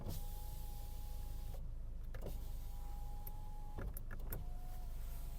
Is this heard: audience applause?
no